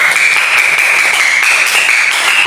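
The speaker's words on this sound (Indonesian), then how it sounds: "Tepuk tangan buat kelompok 2" A group of people applauds a student group at the end of their classroom presentation, producing a dense, steady wash of clapping that stays loud and even through the whole moment, with no voices standing out.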